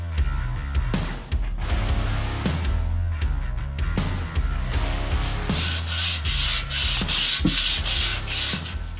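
Close, steady abrasive scraping of sanding an aluminum Kawasaki Z400 motorcycle wheel rim, rubbing back and forth in a rough rhythm that grows harsher toward the end.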